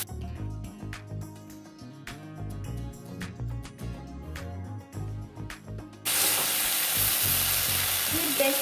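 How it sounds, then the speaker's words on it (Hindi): Onion and tomato fry in a pan for a street-style egg curry. Rhythmic music plays first, then a loud, steady, hissing sizzle takes over up close. "प्याज और टमाटर अच्छे से फ्राई हो गया है"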